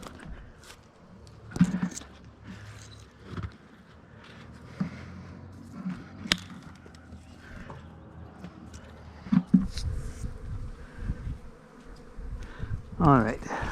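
A bee swarm clustered on a high tree branch buzzes continuously nearby, with scattered knocks and rustles from someone working in the tree.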